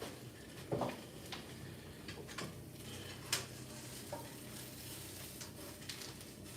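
Eggs frying in a pan with a soft steady sizzle, broken by a few sharp clicks and clanks of utensils against cookware.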